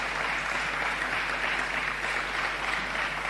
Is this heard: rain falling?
no